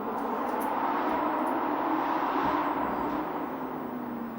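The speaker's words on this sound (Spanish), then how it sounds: "Tiene buen sonido el coche" Lamborghini Huracán Técnica 2023 engine running, a steady, loud droning roar that holds an even pitch throughout without revving or pauses.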